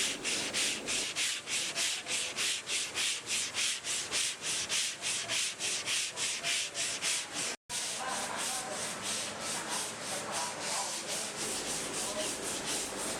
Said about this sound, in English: the painters spend a considerable amount of time sanding back by hand the filler to achieve a smooth finish